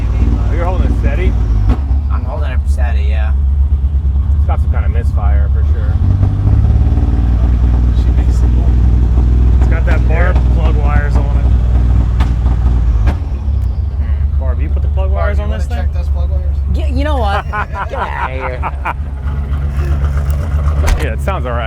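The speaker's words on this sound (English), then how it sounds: "It's got some kind of misfire for sure." Truck engine idling roughly with a misfire, an uneven low rumble broken by sporadic pops and backfires, with people talking over it much of the time.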